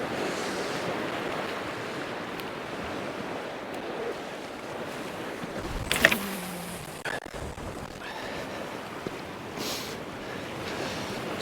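Sea waves break on a rough, rocky shore at Newbiggin, Northumberland, as a steady wash of surf under wind buffeting, with one sharper, louder crash near the middle.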